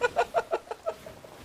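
Chicken clucking in the pirate video game Sea of Thieves, a run of six or seven quick, close clucks that fade toward the end, heard alone without talk.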